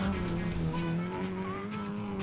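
A rally car powers through a corner on a gravel stage at the Garden Route Rally near George and Knysna, its engine droning steadily at high revs under load, fairly close, with gravel hiss beneath.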